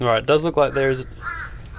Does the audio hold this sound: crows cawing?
yes